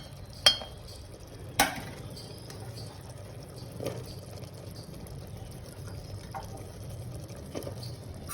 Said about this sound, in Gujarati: અને તેને બરાબર મિક્સ કરી દો